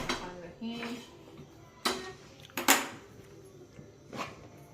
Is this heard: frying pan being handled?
yes